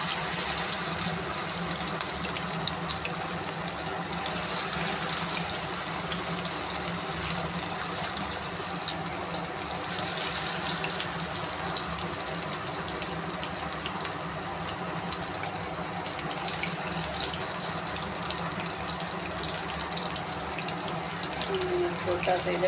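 Black masoor pakoras fry in hot oil with a steady dense sizzle and hiss throughout, close and continuous, with faint talking in the background.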